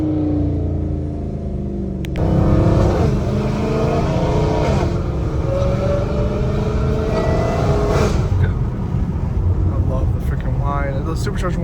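A straight-piped Dodge Hellcat Redeye accelerates hard, its supercharger whine rising in pitch over a loud, raspy exhaust roar, surging again after a shift, while someone talks over the engine.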